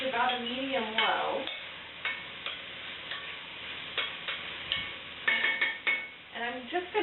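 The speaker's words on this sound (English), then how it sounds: "give those a good stir, get them nice and coated with that oil" Carrots stirred in oil in a pot, with a faint sizzle beneath repeated scraping and knocking of the spoon against the pot, while someone talks.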